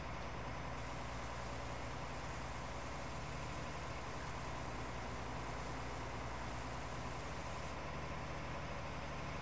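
A large tractor in a farming simulator game, its engine holding a steady low droning rumble with a constant hum that stays level throughout, no voices over it.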